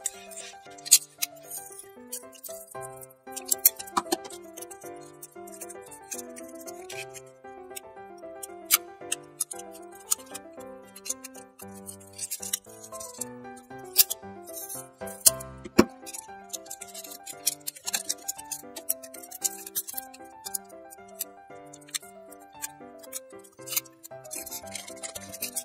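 Sticky tape handled while building a paper craft from a used tissue roll, with irregular close crackles, ticks and rustles scattered across a continuous background of soft music.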